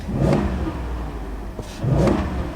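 A 2024 Ford Super Duty 6.8L gas truck engine revs twice in quick succession, each rise in pitch falling back between, close and fairly loud.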